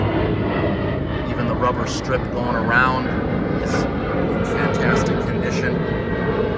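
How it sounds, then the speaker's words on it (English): An airplane drones overhead with a steady, broad roar that holds through the whole stretch, while someone talks close by over it. "Apologies for the plane going over."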